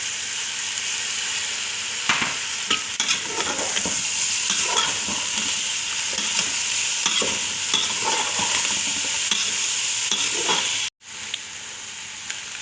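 Garlic and ginger frying in a pan, a steady, loud sizzle with scattered pops and stirring scrapes that runs continuously and then cuts off abruptly near the end.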